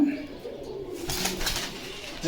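Fancy domestic pigeons coo at a busy pigeon market in Bangladesh, soft low throaty calls beneath steady crowd murmur and bustle.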